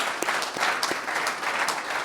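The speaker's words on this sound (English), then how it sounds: "round of applause." Audience at a medtech summit claps together in a dense, sustained burst of applause, many hands close and evenly loud throughout.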